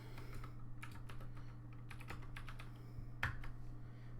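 Keystrokes on a computer keyboard tapping in quick irregular bursts, with one louder clack near the end, over a steady low hum while playing Old School RuneScape.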